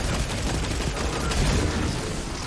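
Rapid full-auto gunfire from a weapon fitted with a full-auto retrofit in Destiny 2, The Witch Queen legendary campaign, a dense continuous burst of overlapping shots with booming low end filling the whole stretch.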